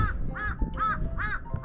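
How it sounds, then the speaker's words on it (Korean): Crows caw from a mountain ridge on Gwanaksan: four harsh, arching calls come in a steady rhythm, fairly close and clear over a light outdoor background. "아이 웬 까마귀들"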